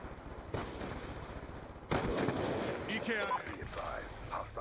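Rapid gunfire from the video game Black Ops 2 breaks out in bursts, with a sharp volley at the start and a heavier sustained barrage after, loud and close.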